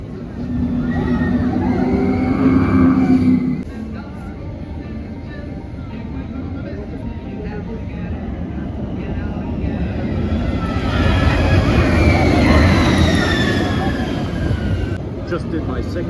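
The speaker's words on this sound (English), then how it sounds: "Just did my second ride ever on Radiator Springs Racers" Radiator Springs Racers ride vehicle at Disney California Adventure, a loud, steady rumble and rushing wind noise that fills the whole stretch, with voices faintly mixed in.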